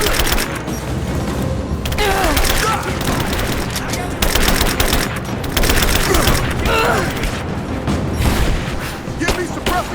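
Gunfire and a grenade blast in a combat video game, with continuous heavy shooting and booming bursts throughout, loud and dense, under chaotic battle noise.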